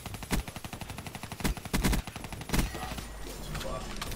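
Rapid automatic gunfire from a Black Ops 3 free-for-all match rattles in steady bursts, with louder individual shots punctuating the stream before giving way to a sustained noisy rumble.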